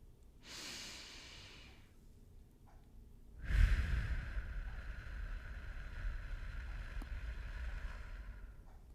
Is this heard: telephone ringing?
no